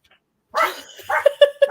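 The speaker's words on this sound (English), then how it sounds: "All little dogs bark like that." A small Pomeranian dog barks and yips in quick, sharp bursts after a brief silence, close and loud, with a whimpering start followed by three rapid high barks.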